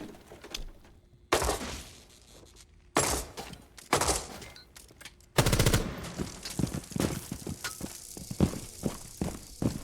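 Bursts of R4C rifle fire in a video game, several sharp loud volleys separated by quieter gaps, with the later bursts coming faster and more rapid-fire.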